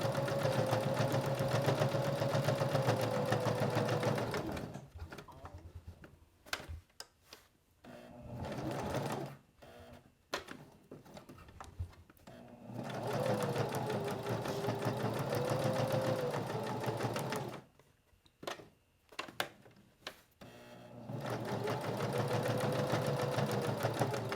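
A sewing machine stitches the corners of a fabric business card holder, steady close whirring runs that stop and restart several times, with brief slower hand-cranked stitches and handling noises between bursts.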